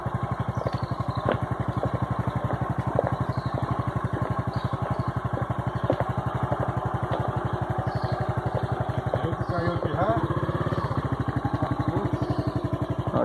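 A motorcycle rides a muddy, waterlogged trail, its engine a steady close pulsing chug at low revs with brief rises in throttle, and faint squeaky chirps in the background.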